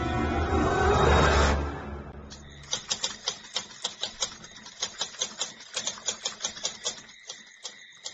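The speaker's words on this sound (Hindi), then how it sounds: "टाइपराइटर की बटन दबने की आवाज सुनाई दे रही थी।" Typewriter keys clack in a steady, fairly even rhythm, following a brief swelling whoosh at the start; the strikes are close and distinct.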